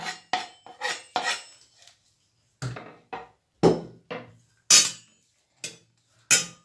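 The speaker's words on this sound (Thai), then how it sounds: "เอาข่าลงไปนะะเพื่อคั่วนะคะ" Galangal pieces knock and scrape as they dry-roast in a pan in short, irregular bursts, with sharp clatters separated by brief silences.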